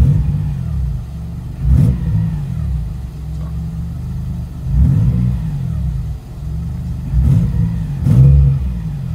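A Hellcat-powered car with an upgraded 525 fuel pump revs up close, with four sharp throttle blips rising from a steady idle rumble and falling back between them.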